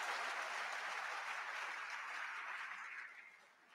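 Applause from an audience at an induction ceremony for newly qualified medical and dental practitioners, dense and sustained clapping that fades away toward the end, heard at a distance.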